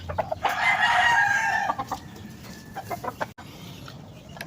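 A rooster crows once loudly and close by, a long drawn-out call, followed by softer clucking and light background noise.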